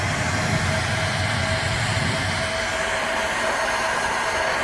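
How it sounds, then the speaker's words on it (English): Steady, loud, continuous blowing roar of a heat gun warming a plastic holiday blow-mold figure before hot melt gluing, unbroken and close for the whole stretch. "before we do, we're going to heat the area to prep it so the adhesion is better."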